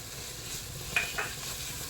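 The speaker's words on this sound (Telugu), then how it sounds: "ఇప్పుడు వీటితో పాటు వీటిని కూడా మంచిగా కలుపుకొని వేయించుకోవాలి." Garlic, ginger paste and chillies stir-fry in a pan for a mixed greens pulao, a soft, steady sizzle with a couple of brief utensil scrapes near the middle and no voices.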